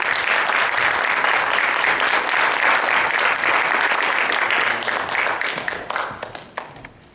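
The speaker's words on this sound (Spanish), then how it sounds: "Aplausos, por favor." Congress audience in Santiago, Chile, applauding a conference speaker: a loud, dense wall of clapping holds steady for about five seconds, then tapers into scattered individual claps before fading out.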